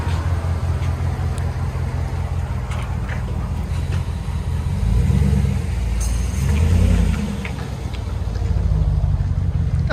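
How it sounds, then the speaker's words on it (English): Steady low rumble of a Ram 1500 Rebel pickup's 5.7L Hemi V8 at idle, close and loud, with slight swells in the engine note and no talk. "Got a nice idle to it too."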